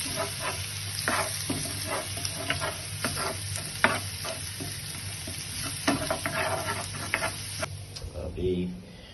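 Garlic frying with prawns in a pan for a creamy garlic prawn curry, a steady dense sizzle with repeated scraping stir strokes, close and fairly loud, easing off near the end.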